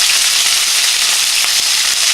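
Chicken pieces fry in oil in a pan, a loud, dense, even sizzle filling the whole moment with a couple of faint pops, no talking.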